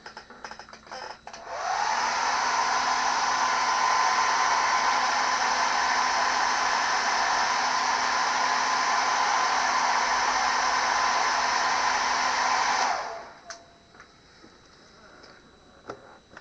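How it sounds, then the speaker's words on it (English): A hair dryer blows on a freshly painted Doctor Who model figure, switching on after about two seconds with a loud, steady whoosh and a constant hum, then cutting off near thirteen seconds into quiet room tone. "I'll just dry him off"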